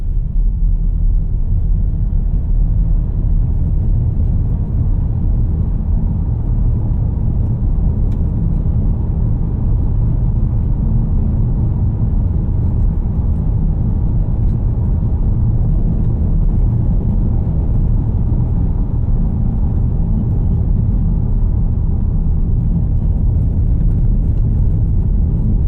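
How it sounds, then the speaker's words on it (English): Steady, loud low-frequency road rumble inside a 2022 Volkswagen Taos SE AWD driving on a gravel road, a continuous tire and cabin drone with no talking. "I'll shut up for a second so you guys can kind of hear the road noise on a"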